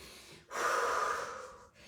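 A single heavy, audible breath, a sharp gasping inhale and exhale, from someone straining through a resistance band HIIT workout, close and alone.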